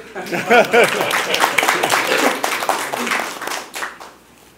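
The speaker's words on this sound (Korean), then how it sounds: "박수 치시는데?" An audience applauds at an academic policy forum at Seoul National University, a burst of dense clapping lasting a few seconds before fading, with a voice speaking briefly at the start over the hands.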